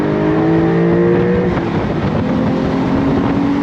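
A 2025 Porsche 911 Carrera T Cabriolet accelerating hard on throttle, its engine note climbing loud and close with rising harmonics, then settling after a shift into a steady drone.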